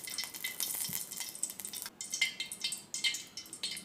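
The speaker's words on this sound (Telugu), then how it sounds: "డ్రై ఫ్రూట్స్ని వేయించుకోవాలి. బాదం, కిస్మిస్ అండ్ జీడిపప్పుని వేస్తున్నాను." Almonds, raisins and cashews frying in two spoons of ghee in a small pot make a soft, crackling sizzle with light stirring scrapes, quiet and close, coming in uneven bursts.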